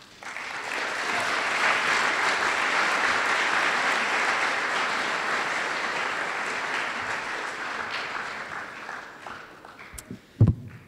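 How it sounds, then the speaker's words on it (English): An audience applauds warmly, a steady wash of clapping that swells, holds, then tapers off, followed by a few thumps near the end. "So please join me in giving a warm welcome to Madeline Miller."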